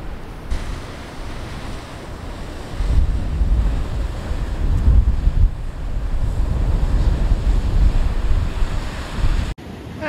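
Ocean swell surging into a large sea-cliff crater over 10 metres deep, linked to the sea by a tunnel, on the Eyre Peninsula coast: a steady close roar of churning water that swells after a few seconds, with wind buffeting the microphone.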